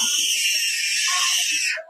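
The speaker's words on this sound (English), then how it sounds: "If that screeching concerned you" A child screeches in a home recording, a loud, sustained high-pitched shriek that holds steady for nearly two seconds before cutting off, with faint voices underneath.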